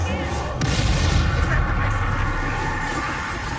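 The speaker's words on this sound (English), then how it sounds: "I'll use Bombarda." A booming Bombarda explosion spell in Hogwarts Legacy, a deep rumbling blast with a sharp crack at its start, then sustained low rumble and crackle that slowly fades.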